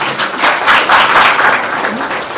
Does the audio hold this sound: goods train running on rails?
no